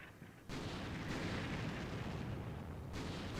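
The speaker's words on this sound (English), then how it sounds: "The barrage is just starting." Artillery barrage in the wargame Combat Mission: Shock Force 2, a near-quiet moment that gives way to a loud, sustained roll of booming fire and rumbling explosions lasting several seconds.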